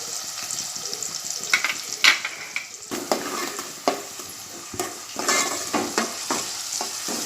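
Onions and green chili fry in oil for rawa upma, making a loud close sizzle punctuated by repeated spoon scrapes and knocks against the pan, with no one talking.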